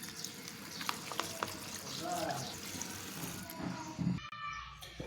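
Boiled kolmi greens stalks are rinsed in water, with gentle splashing and trickling close by, a faint voice in the background, and a brief clatter near the end.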